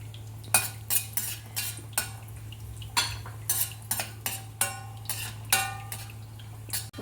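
A spoon stirring pistachios as they fry in a pan for carrot halwa, with steady rhythmic scraping and clinks against the metal over a constant low hum and no talk.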